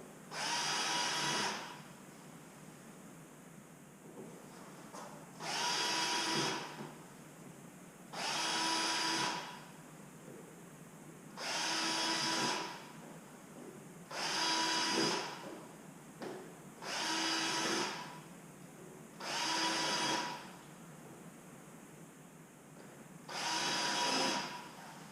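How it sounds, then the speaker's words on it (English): A drill bores into the plastic rocker panel of a BMW F30 335 M Sport, about eight short loud whirring bursts of a couple of seconds each, separated by brief quiet pauses. "And all you're doing is drilling into the plastic of the rocker."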